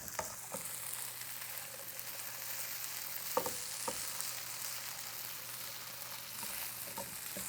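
Potatoes fry in a pan with a continuous soft sizzle, and a few spatula scrapes and taps from stirring punctuate it at moderate level.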